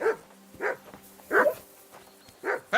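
In Kingdom Come: Deliverance II, a dog barks persistently, five sharp yaps at uneven intervals, close and moderately loud, with no one talking.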